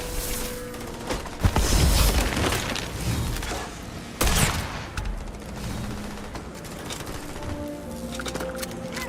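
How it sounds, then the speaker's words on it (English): Weapon testing in the space game Starfield fills the scene with heavy gunfire and booming impacts, two loud bursts standing out over dense, continuous rumbling shots and a background hum. "What are they even shooting at here?"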